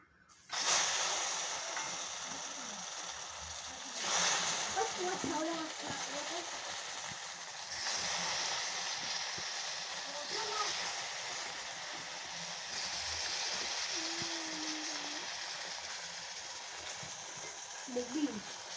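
Brinjal pieces dropped into hot oil after fish, a sustained close sizzle and hiss swelling in bursts as pieces go in, with a voice speaking intermittently over it.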